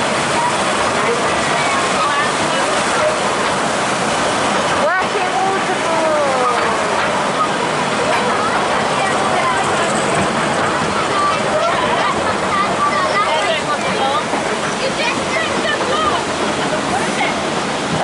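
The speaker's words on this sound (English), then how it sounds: "Working waterfall!" A working waterfall at Drayton Manor theme park gives a steady, loud rushing roar of falling water for the whole stretch, with voices talking faintly underneath.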